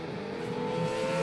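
A car engine roars loudly and steadily up close, its revving tone rising slightly across the short burst, with no talk.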